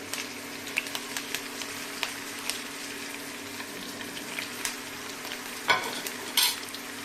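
Quiet sizzle of dry chillies and curry leaves tempering in oil for amla pickle, with soft crackles and a couple of sharper pops near the end.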